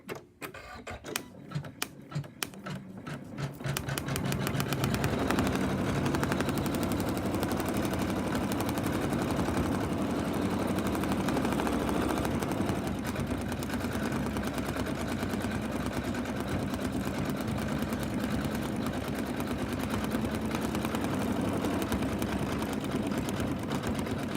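An embroidery machine stitches dark pink thread on an in-the-hoop pig softie, starting with a few sharp clacks, then settling into a loud, steady, rapid mechanical chatter that runs unbroken.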